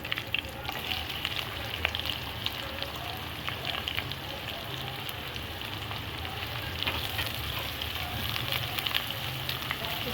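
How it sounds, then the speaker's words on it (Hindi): Onions sizzle in hot oil with whole spices for a kidney bean curry, a steady close crackle and hiss running throughout, with occasional light scrapes and no voices. "प्याज़ों को हमने फ्राई करना है ट्रांसपेरेंट होने तक"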